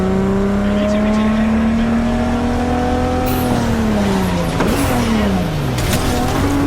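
A car is driven in Cyberpunk 2077 (Patch 2.0, PS5), its loud engine holding a steady drone, then pitch sliding up and down through gear changes and revs, with brief squeals near the end.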